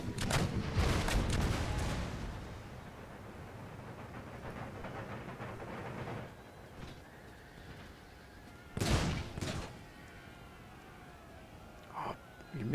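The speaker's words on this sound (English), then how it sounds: "We need to open fire." Empire Total War musket and artillery volley: a heavy, rumbling barrage of shots opens loudly, then fades, and further booming bursts break out later above quieter battlefield ambience.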